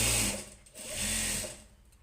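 A sewing machine runs steadily while stitching a blouse, its fast whirring hum loud and close, easing briefly mid-stretch and picking back up.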